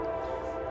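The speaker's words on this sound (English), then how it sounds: "Oh my God, the train." A passing train heard as a sustained tonal blare, most likely a horn, holding steady and fairly loud for under a second with no speech.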